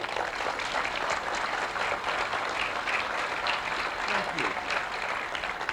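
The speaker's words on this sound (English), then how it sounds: "please join me in a rousing round of applause" Sustained crowd applause at a police station ribbon-cutting ceremony, steady and dense throughout as an audience welcomes a senator to the podium, with a few voices faintly mixed into the clapping.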